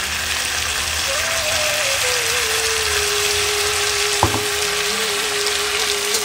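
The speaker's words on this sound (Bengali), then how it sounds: "আমার কাঁঠাল প্রায় ভাজা হয়ে গেছে" Jackfruit fries in a pan with a steady, close sizzle and hiss that runs throughout, broken by a brief clack of a utensil partway through.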